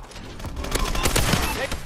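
Rapid gunfire from sniper rifles in Call of Duty Advanced Warfare, quickscoping in an online match: dense bursts of shots and game noise, loud and continuous, with a faint voice mixed in.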